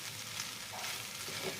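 Food being stirred and mixed in a hot pan in a home kitchen, a soft continuous sizzle with faint scraping, quiet and steady throughout.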